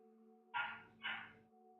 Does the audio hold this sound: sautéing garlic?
no